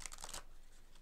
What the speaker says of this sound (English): I'm actually going to give these a quick shuffle.